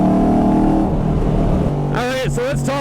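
Onboard a 2017 Ford Mustang FP350S factory-built race car on track at VIR, the engine drones loudly and steadily, then someone talks over it.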